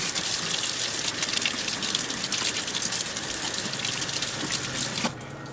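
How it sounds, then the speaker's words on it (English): A cat fountain filter rinsed under running tap water in a sink, a steady close gushing stream that stops abruptly near the end. "Now I'm going to rinse one of the filters and get it nice and clean."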